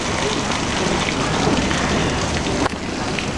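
Heavy rain pouring down hard during a severe storm, a loud, dense, steady hiss of drops beating on surfaces, with a brief bump near the end.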